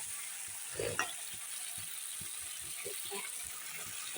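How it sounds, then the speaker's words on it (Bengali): Ridge gourd with spice paste, green chillies and sugar sautés in a pan for a poppy-seed dish, giving a steady soft sizzle, with a brief louder scrape of stirring near the start and small clicks throughout. "ভালো করে মশলাটা দিয়ে ঝিঙাগুলো কষিয়ে নেব"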